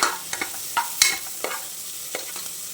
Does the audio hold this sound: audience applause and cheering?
no